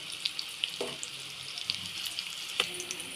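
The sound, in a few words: stuffed bitter gourd frying in oil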